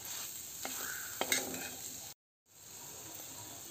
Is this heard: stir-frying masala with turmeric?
yes